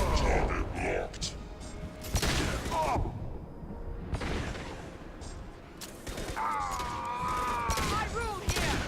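Combat in the video game Mass Effect 2: rapid bursts of gunfire and booming impacts run almost throughout. Game character voices shout over the shooting.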